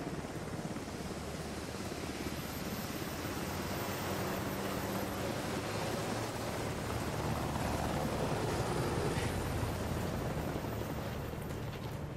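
Military helicopters in the video game House of Ashes, set in 2003, give a continuous loud rotor roar and engine drone that stays steady and close throughout with no voices.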